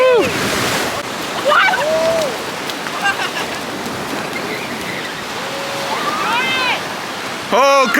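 Ocean surf washes onto the beach at Assateague Island as a steady, broad roar, under excited voices shouting and laughing nearby.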